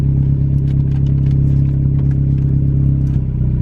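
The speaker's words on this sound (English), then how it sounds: "I'm gonna start letting the clutch out so low." Beater car's engine drones steadily at low revs in first gear as the clutch starts to engage and grab, a constant close rumble with a light mechanical clatter and no voices.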